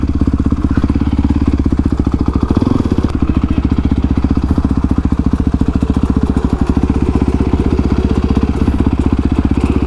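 A Honda CRF 450X supermoto motorcycle runs loud and close, its engine pulsing with a fast, even throb that holds steady throughout.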